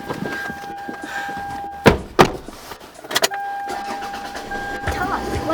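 Mommy's car, with a door thudding and an electric window or engine starting amid a couple of sharp clunks, while people talk over it nearby.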